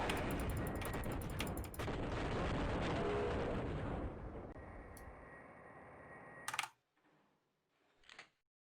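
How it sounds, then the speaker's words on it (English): Grenade launcher lobbing grenades in a video game: a dense, loud wash of blasts and rumbling for several seconds, then a quieter tail with a couple of sharp bursts near the end. "Yeah, this grenade launcher is pretty good. It's I'm lobbing the grenades"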